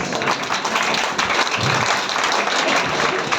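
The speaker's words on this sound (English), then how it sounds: "Give her a big round of applause." Applause from an audience after a speech at an International Women's Day school event, a steady wash of clapping that holds at an even level from start to finish.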